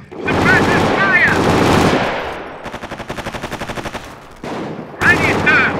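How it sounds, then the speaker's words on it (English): Suppressive gunfire in the WWII strategy game Company of Heroes: a dense burst of shouted voices and shots, then a steady rhythmic machine-gun rattle of about a dozen evenly spaced rounds, followed by another loud voiced burst. "Suppressive fire!"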